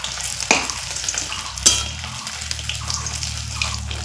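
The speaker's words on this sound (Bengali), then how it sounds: "উল্টো পাল্টা করে ভেজে নিব।" Jute leaf fritters frying in hot oil and being turned over, a bubbling sizzle with two distinct clacks of the turning spoon against the pan, close by and without speech.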